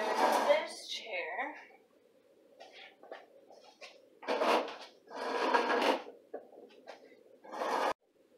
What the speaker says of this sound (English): take this chair, move that there,